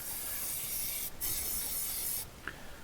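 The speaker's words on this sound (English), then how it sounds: "So if you're spraying really far away like this," Airbrush spraying primer from a distance, a steady broad hiss that runs nearly unbroken for the whole stretch, with a couple of brief pauses where the air cuts out before resuming.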